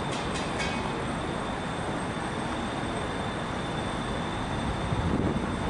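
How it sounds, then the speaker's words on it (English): A Waratah train arrives at Milsons Point station in Sydney, producing a loud, steady rail rumble with a hiss of wheel and track noise that holds throughout, with no talk. "We've got another Waratah arriving."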